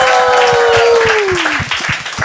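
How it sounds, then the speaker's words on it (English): Audience applause at a comedy show, dense clapping running steadily throughout while a sustained voice or tone glides downward over it in the first second and a half. "Big round of applause for you guys."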